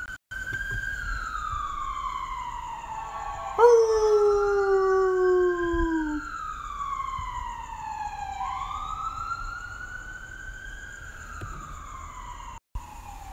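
An ambulance or police siren wails in the distance, rising and falling, while a dog howls along nearby with long, sliding cries.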